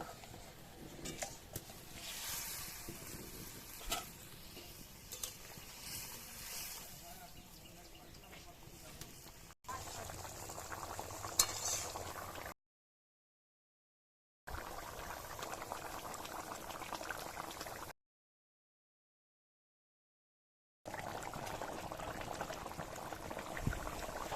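Water goes into a spiced ritha fish curry and it bubbles and simmers, a steady close boiling churn that breaks off into silent gaps and then resumes.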